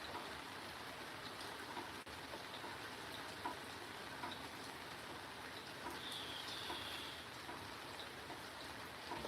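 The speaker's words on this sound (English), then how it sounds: "Now it's just that slow drip of rain." Rain easing off into a slow drip: a soft, even patter and wash of falling water, faint and steady throughout, with scattered small drops standing out and no one talking.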